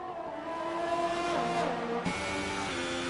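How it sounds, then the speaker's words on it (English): Ferrari Formula 1 cars in a racing video game roar down the straight, a steady layered engine whine with shifting pitches as the cars pass, fairly loud and continuous, with no voices. "The Ferraris go to battle once more. Down the straight they will come."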